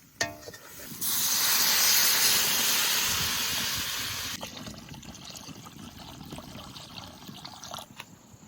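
Water is poured into oil-separated spice paste with turmeric and salt in a pan for cooking silver carp, giving a loud sustained sizzling hiss that fades into a gentle simmering bubble, close up with no talk.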